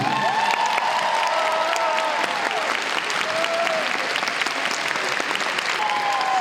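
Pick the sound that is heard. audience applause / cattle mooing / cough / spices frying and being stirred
audience applause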